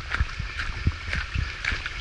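A river rushes steadily at a footpath crossing on a Cumbrian Way hike near Scafell Pike, a continuous close wash of water broken by a few soft thumps.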